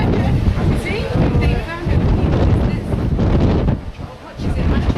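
Strong wind at sea off Antarctica aboard a ship, a loud continuous roar and buffeting against the microphone with surging gusts.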